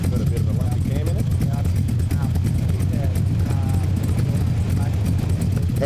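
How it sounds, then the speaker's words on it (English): A Holden Monaro with a lumpy cam runs under load on a rolling road, its engine note a low, pulsing grunt with steady loping rhythm, while someone talks over it. "As you can hear from that beautiful grunt of this almighty Holden Manara"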